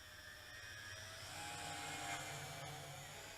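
Motors of a Yi Zhan Tarantula X6 quadcopter drone flying at night rise in pitch as they speed up, a steady faint whine with layered tones swelling and easing over a few seconds.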